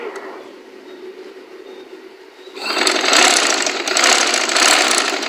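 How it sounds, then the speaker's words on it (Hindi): Sewing machine stitching a double seam along the edge of contrast fabric on a trouser, starting after a quieter moment and running as a loud, fast, steady mechanical rattle close by, no speech. "सीधा करने के बाद अब हम कोने कोने से किनारे से डबल सिलाई लगा लेंगे।"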